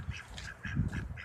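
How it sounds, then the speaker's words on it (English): Ducks quack nearby outdoors in a run of repeated nasal calls, moderately loud with no talk over them. "Oh, look at these ducks."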